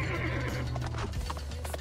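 A horse neighs in the Roblox game Attack on Titan Freedom War, with a loud whinny and clip-clopping hooves over a dense game soundtrack.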